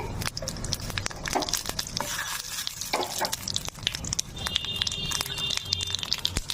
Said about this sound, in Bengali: একটা তেজপাতা দিচ্ছি আর একটা লঙ্কা দিচ্ছি সাদা জিরে দিচ্ছি